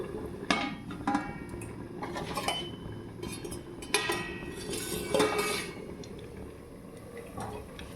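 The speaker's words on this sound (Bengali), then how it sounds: "এখন আমি ঢাকনাটা সরাইয়া দেখবো কতটুকু হয়েছে।" A metal lid clanks and rattles as it comes off a cooking pot of ghugni, with several sharp clinks and scrapes of metal cookware spread over a few seconds, close and fairly clear.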